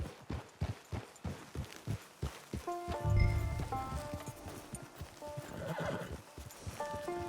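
Horse in the Red Dead Online video game whinnying loudly at close range, with hooves clip-clopping in a steady walking rhythm before and after the neigh.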